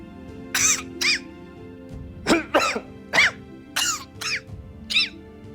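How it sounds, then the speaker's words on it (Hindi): A string of harsh coughs, about eight bursts in uneven clusters, close up with short pauses between them and no talking. "बस हल्का सा नजला खांसी है"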